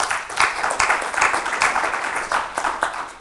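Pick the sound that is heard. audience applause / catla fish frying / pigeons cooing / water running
audience applause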